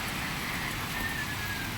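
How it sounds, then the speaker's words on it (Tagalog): Rain falls steadily outdoors in an open area during a satellite antenna installation, a dense, even hiss of drops at moderate level with no talk over it. "kaya lang umulan pa"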